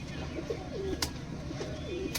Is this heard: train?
no